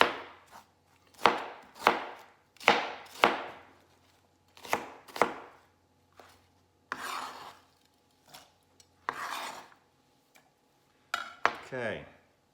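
An onion being roughly chopped with a knife on a board for shrimp cocktail: crisp, sharp chops in quick groups separated by pauses, close and clear, with a brief voice near the end.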